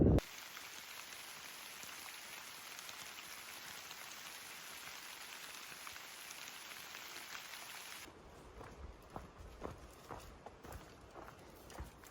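Steady rain falls along the Pacific Crest Trail, a continuous broadband hiss of drops on the surface for most of the stretch, then it thins into scattered, sharper individual drop impacts near the end.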